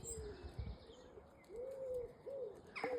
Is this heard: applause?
no